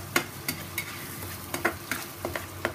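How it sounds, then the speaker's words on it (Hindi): Crushed onions frying in a pan for a chole dish, a continuous sizzle broken by regular spoon strokes scraping and stirring, close and fairly loud with no talking. "हमें ऑनियन को भूनना है अच्छे से"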